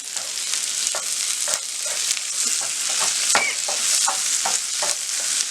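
Capsicum pieces and green peas stir-fry for pav bhaji with a steady sizzle, while a spatula scrapes the pan in repeated strokes close by.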